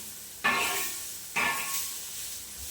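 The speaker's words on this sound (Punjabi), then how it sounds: "ਮੈਂ ਇਹ ਤੜਕਾ ਧਰਿਆ ਹੈ" Two sudden bursts of hot-oil sizzling as a spice tempering hits the pan, each flaring loudly then settling into a steady hiss, close by.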